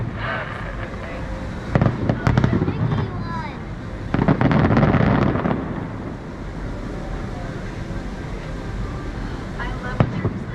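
A fireworks show at Disneyland booms and crackles with a dense volley of bangs mid-sequence, while a crowd murmurs and people talk under wind noise.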